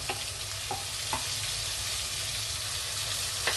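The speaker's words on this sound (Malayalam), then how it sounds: "ഇട്ട് കൊടുത്ത് നല്ലതുപോലെ ഒന്ന് ഇളക്കി ഒന്ന് മൂക്കുന്നിടം വരെ ഇളക്കി കൊടുക്കാം" Chili powder paste for a fish curry fries in a pan with a soft, steady sizzle, broken by a few light scrapes of stirring.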